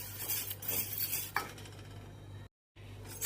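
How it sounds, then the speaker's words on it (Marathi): Sabudana dry-roasting in a pan while being stirred, giving a continuous gentle scraping and rustling with a faint sizzle, one sharper clink partway through, then a brief silence before the stirring resumes. "साबुदाणा टाकलेला आहे आणि तो भाजून घेणार आहे."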